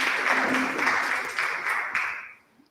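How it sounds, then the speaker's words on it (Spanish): An audience gives a student a short round of applause at a science expo in Nicaragua: brisk, lively clapping that fades out quickly at the end. "Abigail, démosle un aplauso a Abigail."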